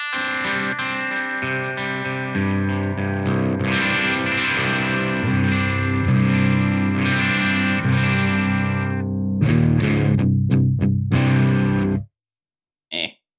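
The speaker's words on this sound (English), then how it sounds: "this is what the guitar sounds like" An electric guitar plays sustained chords and single notes with a chorus-like shimmer, ringing steadily before stopping abruptly, followed by a brief burst near the end.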